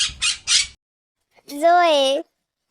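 A parrot squawks after a few short bursts of speech. It is a single loud, harmonic, wavering call of about three quarters of a second.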